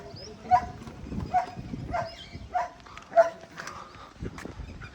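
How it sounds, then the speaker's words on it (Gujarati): A German shepherd mix dog barks in a series of short, moderately loud yips and woofs at a farmyard with chickens, the calls spaced irregularly with light background noise between them. "ડોગ પણ છે,"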